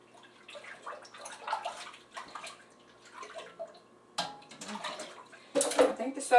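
Water runs into a bucket for homemade laundry detergent, an uneven splashing and gurgling stream that swells and fades in bursts, growing louder toward the end.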